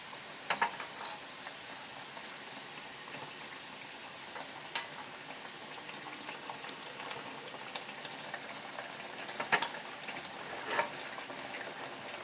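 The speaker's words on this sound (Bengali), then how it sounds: "ঝোল ফুটে উঠেছে, আমি মাছগুলো দিয়ে দিলাম।" Chital fish curry simmering in a pan just after pre-fried fish pieces go in: a faint, continuous bubbling and soft sizzle with a few scattered pops, quiet and steady, with no voices.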